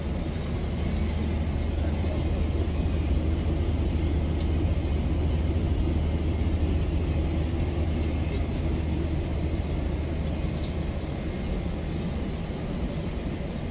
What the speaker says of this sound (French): on va atterrir à Dubaï pour 24 heures